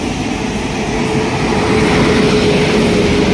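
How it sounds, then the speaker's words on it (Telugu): A train arrives at platform 3 of Anakapalli railway station, its loud, steady rumble filling the platform and growing slightly toward the end, with a faint tonal whine above it. "అదిగండి ప్లాట్ఫామ్ 3 దగ్గరికి అయితే వచ్చేస్తుంది ట్రైన్."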